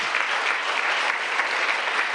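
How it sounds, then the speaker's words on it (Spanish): A church congregation applauds the Lord in a dense, continuous wash of clapping that fills the room evenly from start to finish. "Entonces dice el aplauso al Señor."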